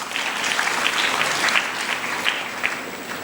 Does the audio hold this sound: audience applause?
yes